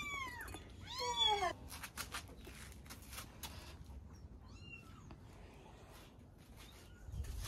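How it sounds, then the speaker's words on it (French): Several tiny one-month-old kittens on a farm in Madagascar meow in short, high, rising cries, clustered at first and then sparser against a faint rustling background. "On va donner du lait aux petits chatons"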